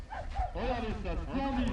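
Dogs yap and whimper in short bursts during a lure coursing event on a warm day, close by, mixed with people talking.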